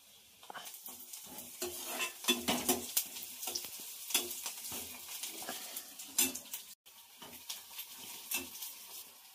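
Onions and green chilies fry in hot oil in a pan, a steady sizzle broken by repeated stirring scrapes and clinks of a utensil against the pan, close by and with no speech.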